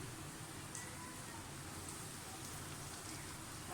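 Chicken nuggets fry in oil over a low flame, giving a steady, soft, even sizzle that hisses continuously throughout with no talking.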